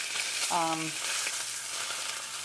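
Steak seared in a hot pan after sous vide cooking, a steady soft sizzle throughout with a brief tonal squeak partway, moderately quiet and close.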